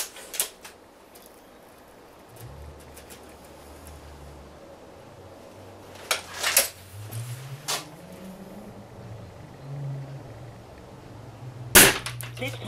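Spring-piston and gas-ram air rifles being compared: a sharp, loud shot crack near the end, a few smaller clicks earlier on, and a low mechanical hum running underneath.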